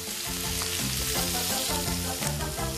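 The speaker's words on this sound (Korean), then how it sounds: "두툼한 살에 고소한 버터를 두르고 고루고루 노릇노릇하게 익혀주면" Thick squid pieces grill in butter in a pan, giving a steady, close, loud sizzle throughout with a tonal background hum or music beneath.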